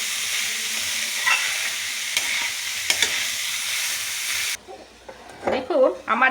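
Khichuri mixture with cumin powder sizzling and being stirred in a pan, a dense close hiss with occasional clicks that cuts off abruptly, followed by someone speaking in a quieter room.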